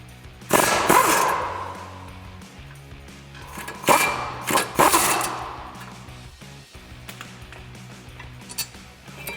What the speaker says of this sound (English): we'll remove our caliper mounting bracket using our 15mm socket